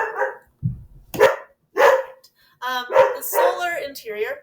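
Dogs bark several times in sharp bursts close by in a quiet indoor room, mixed with a person lecturing over them.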